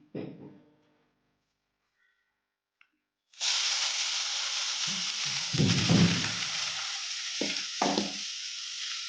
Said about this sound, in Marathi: आणि याच पॅनमध्ये आपल्याला अजून एक चमचा तूप टाकायचं आहे आणि याच्यात टाकूया आपला गाजर जो आपण खिसून ठेवलेला आहे